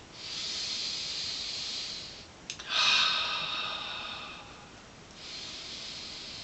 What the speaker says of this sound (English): Do nice circular breathing every day.